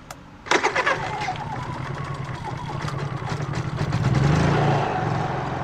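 A Honda 3kW generator starts up with a sharp pull-cord rattle, then catches and settles into a loud, steady running hum up close that swells slightly toward the end; no speech is heard over it.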